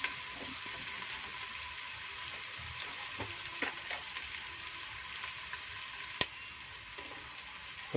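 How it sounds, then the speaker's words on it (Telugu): Onions fry in hot oil in a large pot for a goat head curry, giving a steady, close hiss of sizzling with a few faint stirring clicks and one sharp tap. "ఆయిల్ వేడైన తర్వాత ఆనియన్ వేసి మంచిగా మిక్స్ చేయాలి"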